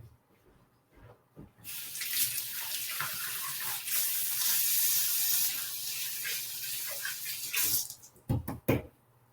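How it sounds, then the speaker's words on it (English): A kitchen tap runs strongly as hands are washed beneath it, a steady close splashing hiss that starts after a quiet moment and cuts off near the end, followed by a few clattering knocks. "So let me wash my hands"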